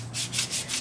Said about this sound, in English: Sanding off the paint so we could paint it.